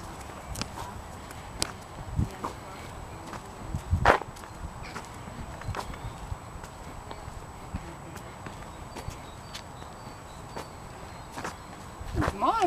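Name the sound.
horse hooves clopping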